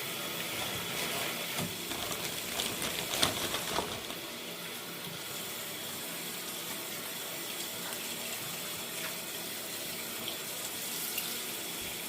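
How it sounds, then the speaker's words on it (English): Water runs steadily from a tap turned to the cold side, a continuous moderate hiss of flow with a few brief clunks early on, no voices. "I turn the water over to the cold side"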